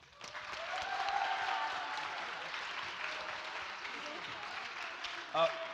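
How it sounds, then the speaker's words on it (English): A round of applause from a student worship gathering, steady broadband clapping that swells early and holds through, with a brief louder knock near the end; a voice seems to murmur underneath. "Can we give them a round of applause?"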